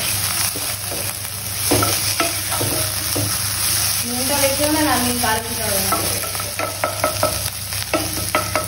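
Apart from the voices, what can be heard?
leafy greens frying and being stirred in pan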